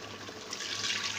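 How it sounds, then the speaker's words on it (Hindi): Water poured into a pot of chickpeas, a short soft rushing splash that builds slightly over about a second, heard alone without talk. "साथ ही पानी डाल दूँगी"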